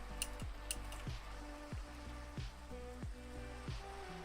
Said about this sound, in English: Just wish it would stop raining.